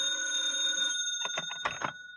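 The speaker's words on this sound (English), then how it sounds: "when the phone rang" An old-style telephone bell rings loud and close for about a second in a quiet room, a bright metallic trill that cuts off abruptly, followed by a few short, muffled knocking sounds.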